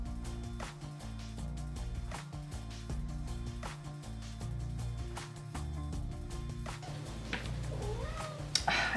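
A cat meows several times at close range amid faint household knocks, with a louder, stretched meow near the end.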